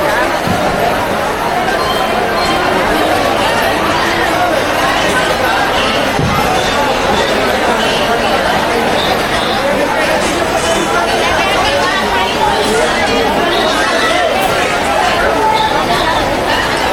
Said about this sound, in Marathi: वापी स्टेशनची गर्दी बघा तेवढी गर्दी लागली वापी